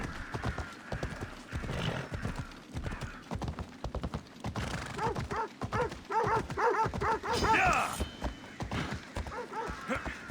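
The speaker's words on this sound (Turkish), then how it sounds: "Köpekler." Dogs bark in Assassin's Creed Odyssey, mixed with horse hoofbeats and a whinny over a busy, steady game soundscape. The barks come in a cluster through the middle, fairly close and loud.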